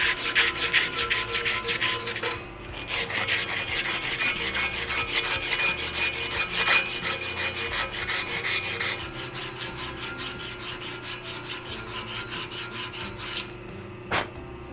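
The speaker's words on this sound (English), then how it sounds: "if I sand like this, it helps to sharpen up that edge" Steady rasping strokes of hand sanding along the edge of a bicycle frame tube, close and continuous, with a brief pause and a single sharp tap near the end.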